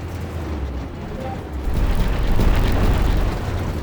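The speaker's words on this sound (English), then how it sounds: "Let's just bash some pipes while we're at it." A heavy tank in Armored Warfare smashing through pipes and fences, a dense rumbling engine roar that swells into a louder crunching, grinding crash of broken metal, sustained and close with no talk.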